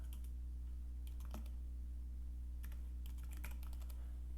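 Computer keyboard typing while entering a place name into an online ad-targeting form, sparse light key clicks in a few short bursts over a steady low hum, close and fairly quiet, no talking.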